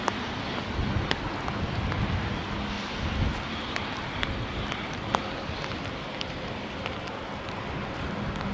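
A Virgin Atlantic airliner taxies at London Heathrow, heard as a steady broadband rumble with hissing, wind-like noise and a few scattered clicks throughout.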